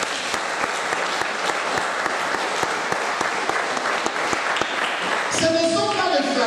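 Church congregation applauding, steady dense clapping throughout at close range, with cheering voices rising near the end.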